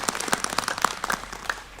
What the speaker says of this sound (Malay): Kita bagi tepukan saudara Rafizi